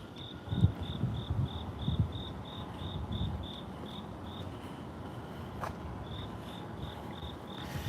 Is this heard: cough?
no